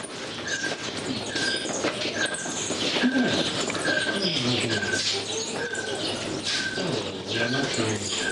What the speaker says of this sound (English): this silence is often broken by the squeaks and squawks from the bats